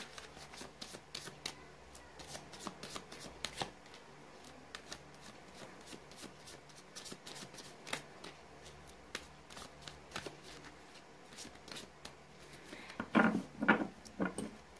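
Tarot cards being shuffled by hand, a soft, steady riffling flutter of cards that runs through most of the clip, ending in a few louder, closer handling sounds.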